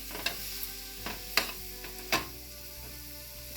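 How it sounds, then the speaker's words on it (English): Crushed chilies hit a hot pan of Sri Lankan devilled chicken, giving a steady sizzle and frying hiss with a few sharp stirring scrapes and clicks, close and fairly quiet, with no voices. "Then I'm going to put my crushed chilies."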